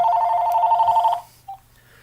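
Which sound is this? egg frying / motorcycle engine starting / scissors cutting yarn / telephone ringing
telephone ringing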